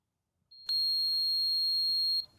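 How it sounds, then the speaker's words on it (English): A multimeter's continuity beep sounds while testing a coil on a 1932 Philco 80 Jr radio, one steady high-pitched tone held for about a second and a half, clear and close in an otherwise quiet room. "these are the two places that we want to put our probes to see if we have continuity"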